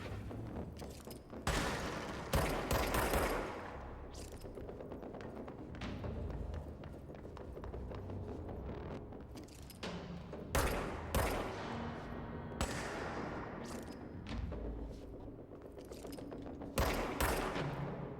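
Sniper gunfire in the video game Control, with repeated sharp distant-sounding shots and bursts recurring over a rumbling, busy background of thuds and movement, faint overall.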